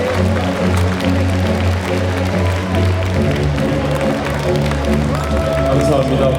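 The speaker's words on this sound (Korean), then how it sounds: "여러분, 한 손에 박수 좀 부탁드리겠습니다" Audience at a memorial ceremony for the late President Park Chung-hee, where clapping mixes with a loud voice over a PA system and crowd noise throughout.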